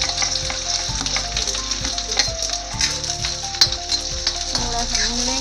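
Chopped onion with cumin sizzles and crackles in hot oil in a pan, a close, steady frying hiss broken by occasional stirring clinks, under a background of continuous music.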